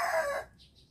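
A claret gamefowl rooster gives a short, close crow that cuts off abruptly, leaving a faint quiet tail.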